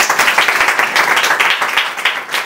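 A church congregation claps in dense, steady applause throughout, many hands at once and fairly loud, during a Christian blessing-time service.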